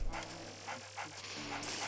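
A dog in the video game Luigi's Mansion on the 3DS gives a few short, faint barks and yips over a steady game background hum.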